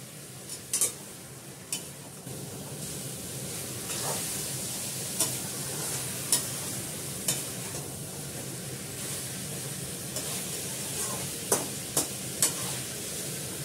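Meat sautéing in oil in a kadai, a steady soft sizzle with sharp ladle taps and scrapes against the metal at irregular intervals, close and alone.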